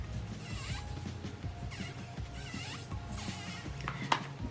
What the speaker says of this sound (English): The only complaint that I have for this palette is mine is very squeaky.